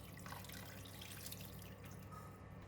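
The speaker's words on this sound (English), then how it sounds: "Add in 400 ml water." Water poured into a pan of braising soy sauce pork belly, a steady broadband rush of liquid running continuously through the short span, fairly faint, with no talking.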